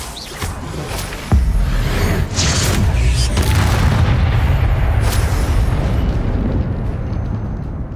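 Fiery spell blast from the Confringo curse in Hogwarts Legacy on PS5, a loud booming burst that hits sharply and then rolls into a sustained rumbling roar lasting several seconds with no speech.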